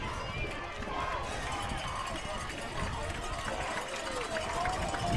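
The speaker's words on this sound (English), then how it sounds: "Home crowd starts to get a little loud." Loud football stadium home crowd roaring steadily throughout, a dense continuous wash of cheering under commentary.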